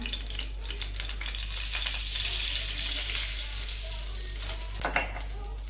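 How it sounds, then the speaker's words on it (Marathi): Pav bhaji masala sizzles steadily in hot ghee, a continuous close frying hiss with a brief louder crackle near the end and no talk. "तुम्ही तूप टाकून घेतलेलं आहे त्यानंतर त्याच्यावरती टाकते पावभाजी मसाला"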